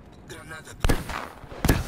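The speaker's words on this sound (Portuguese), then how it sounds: "Granada." Two sharp grenade blasts in the shooter game Black Ops 3, one about a second after the other, punching through the game's background noise.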